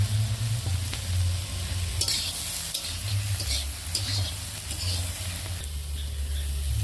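A fried fish head goes into a hot pan in a home kitchen and the oil keeps up a steady close sizzle with stirring and scraping throughout, a few brief metallic clinks over a low rumble.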